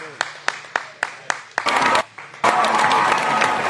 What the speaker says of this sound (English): Give Coach Nate, go give Nate a hand clap right quick